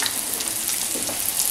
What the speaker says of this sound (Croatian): Znači svaka strana se prži